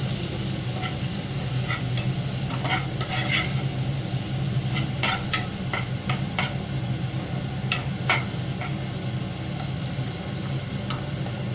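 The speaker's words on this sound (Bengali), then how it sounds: "একটুখানি নাড়াচাড়া করে নেবো।" Pav bhaji being stirred in a pan, a continuous low sizzle under scattered scraping and clinking of the spoon against the pan; no talk.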